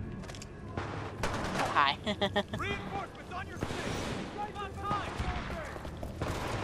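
Bursts of SMG fire crackle in the Titanfall 2 shooter game on Xbox One, rapid shots layered with game effects while someone talks over the action.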